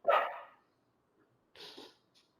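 A dog gives two sharp barks close by, the second shorter and followed by a faint yip, with silence between them.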